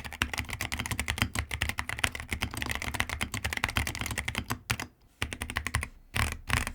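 Fast, steady typing on a modded mechanical keyboard fitted with Kiwi switches: dense, close, crisp keystrokes clacking continuously, with a couple of brief pauses near the end and no talking.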